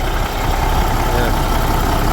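A 1991 Peterbilt 379 single-axle daycab with a CAT 3406 diesel engine idling after a cold start, a steady, loud, continuous rumble held close throughout.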